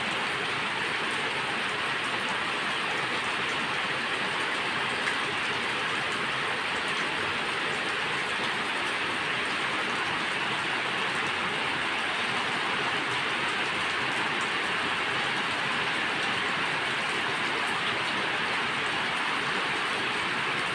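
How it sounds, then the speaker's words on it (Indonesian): Steady, dense rain falls continuously, a loud even hiss with a low rumble beneath and no breaks or voices. "terapi bunyi hujan untuk relaksasi"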